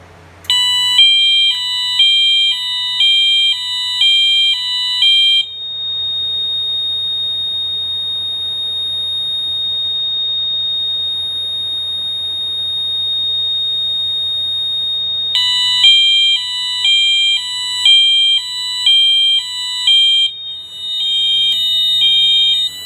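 Fire alarm devices sounding during a test in a bedroom: loud repeating electronic beeping tones in rapid patterns, stopping for about ten seconds of low hum and then resuming with the same pulsing alarm.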